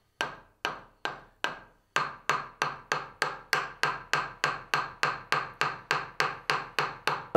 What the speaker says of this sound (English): I'm hitting the handle quite firmly with the mallet.